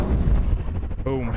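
A sniper rifle headshot in the game Sniper Ghost Warrior Contracts: a heavy, booming shot with a low rumbling tail that fades over about a second, followed by a voice.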